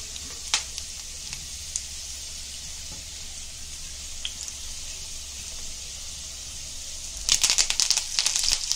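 Curry leaves and masala sizzle in hot oil while cooking a Konkani fish thali, a steady close hiss with faint crackles that breaks into a louder, spitting burst near the end.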